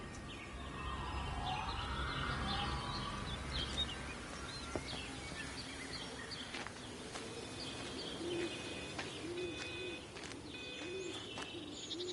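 Birds coo in Everybody's Gone to the Rapture, with soft pigeon-like coos and scattered chirps over a constant outdoor hiss, moderately close and unhurried, with no voices.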